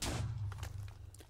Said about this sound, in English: But beware, it's going to make an explosion.